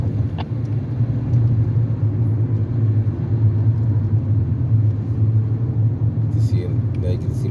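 Steady road traffic on the 93 south, a continuous broad low rumble of passing cars at moderate loudness with little variation.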